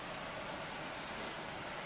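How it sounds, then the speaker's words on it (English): Steady, dense hiss of rain falling outdoors, unbroken and even throughout the brief stretch. "You like the rain?"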